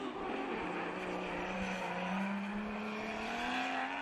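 A BMW drift car on a Formula Drift qualifying run in Texas holds a loud, sustained engine note at high revs, the pitch sliding slowly upward with steady roar and tyre noise throughout.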